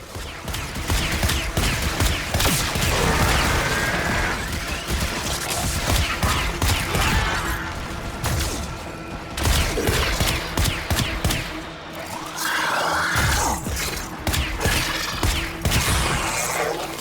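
Rapid bursts of gunfire from a Warframe battle, dense and loud, with overlapping shots, impacts and crashes continuing almost without pause.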